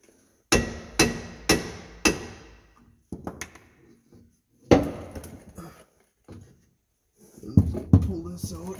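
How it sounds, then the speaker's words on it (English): Rubber mallet knocks on a Dodge Ram 4x4 driveshaft to break it loose: four evenly spaced sharp taps, then scattered lighter knocks and clunks as the part works free, close and distinct. "I just got to give her a couple taps just to break it loose."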